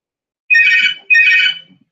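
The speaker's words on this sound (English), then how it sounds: "that's my phone." A mobile phone ringtone goes off twice in quick succession, each ring a loud bright electronic tone lasting about half a second, with silence between and no talk.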